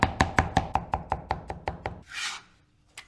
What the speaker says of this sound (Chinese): 准备适量的大蒜剁成较粗的蒜蓉备用